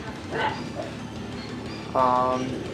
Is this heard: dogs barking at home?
yes